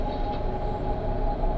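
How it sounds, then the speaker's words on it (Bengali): An old train rolls into a platform and comes to a stop, a steady, moderately loud rumble of wheels and carriages with a faint high whine, nobody talking. "ট্রেনটি প্ল্যাটফর্মে এসে থামল।"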